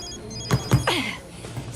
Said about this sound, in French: c'est mon téléphone. C'est Suzanne qui m'appelle et il faut que je réponde.